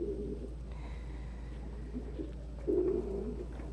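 Pigeons kept under human care coo softly in low, throaty murmurs, with a louder burst of cooing near the end over a quiet, steady background hum.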